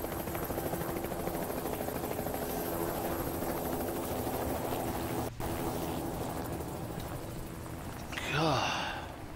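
Helicopter in the Project Zomboid video game passing overhead, a loud sustained rotor drone with a brief dip midway, then a short breathy vocal sound near the end.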